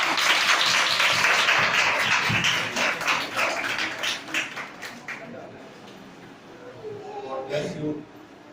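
Loud applause from a gathered audience at a Hindi/Urdu prayer meeting, a dense burst of clapping that thins into scattered claps and fades out, followed by a voice speaking.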